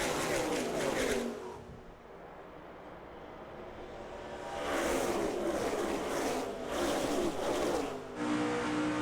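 NASCAR stock cars roar away at the start of the 2009 Budweiser Shootout, a dense pack of engines rising and swelling as cars pass, loud and continuous, with crowd and broadcast ambience mixed in.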